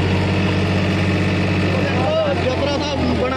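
A New Holland 3600 tractor engine works while ploughing soil, droning with a steady, loud, rich hum that wavers slightly near the end.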